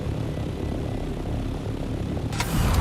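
A steady engine drone of aircraft passing overhead, continuous and fairly loud, with a brighter hiss swelling near the end.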